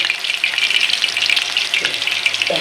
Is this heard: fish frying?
yes